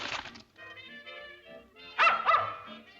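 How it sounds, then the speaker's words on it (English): A dog in a 1938 comedy film scene gives two short, loud barks close by, standing out over a steady background of music and room sound. "There's a good dog."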